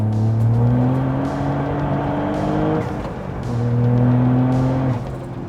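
Modified AWD Toyota GR Yaris Rallye with an Akrapovic exhaust and Motec tune, engine revving loudly up in two long rising pulls with a brief dip between, close and alone.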